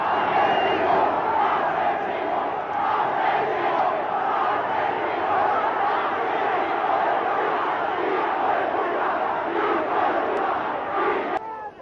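A large angry crowd in Buenos Aires roars and shouts abuse continuously, a dense wall of massed voices that stays loud throughout before cutting off abruptly at the end.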